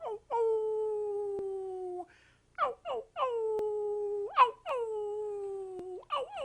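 Coyotes howl in long wavering, sliding tones broken by short yips and whimpers. The sound is clear and moderately loud, with no talking over it.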